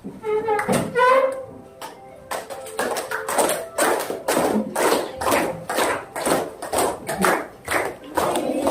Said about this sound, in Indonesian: Tepuk tangan boleh ya?